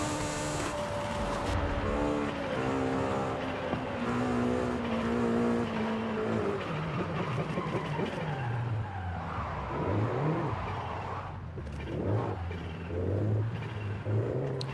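A tuned turbocharged Honda with VTEC in the racing game Forza Horizon 5, its engine revving high and steady, then tires squealing and skidding as the car drifts, loud and continuous.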